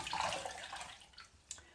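Water splashing as a face is rinsed after skincare, a soft close wash of splashes and trickling, faint overall with a brief sharper splash near the end.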